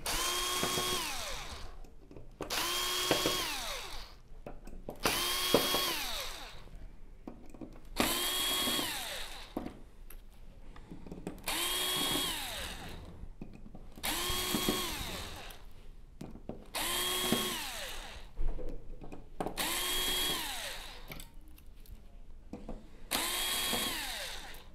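A power drill backs screws out of the power supply boards of a Sony XBR-75X900F TV in about nine short, evenly spaced whirring bursts, each rising then winding down, close up with quiet gaps between.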